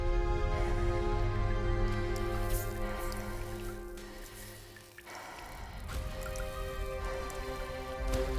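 Timefall rain in Death Stranding patters and drips steadily against surfaces, a close wet texture layered over a low droning in-game ambience, with a brief dip and swell partway through.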